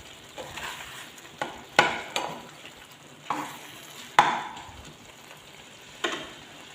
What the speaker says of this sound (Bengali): একটু পর পর নেড়ে চেড়ে দিতে হবে।